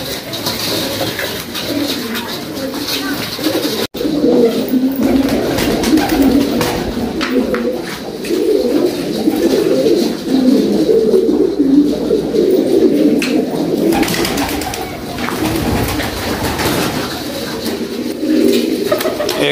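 Pigeons cooing steadily, several soft, throaty calls overlapping close by with a low ambient hum and a brief click early on.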